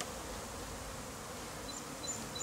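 A steady, dense buzz of honeybees swarming around a package of bees with a caged queen during a beekeeping demonstration outdoors, continuous and moderately loud with no talk.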